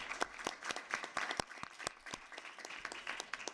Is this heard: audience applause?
yes